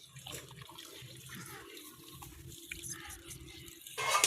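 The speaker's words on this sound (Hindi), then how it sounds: "स्वांजने का पहला पानी निकालने लगी हूँ" Water is poured off drumstick pods (sohanjna) in a home kitchen, a soft running, splashing stream like a tap or sink draining, steady and fairly close, with a louder gush at the very end.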